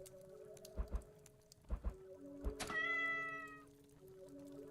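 Cats meowing during combat in the Lovecraft dungeon crawler game Cyclopean, with a few dull thuds and a long wavering meow over a steady musical drone, with no voices.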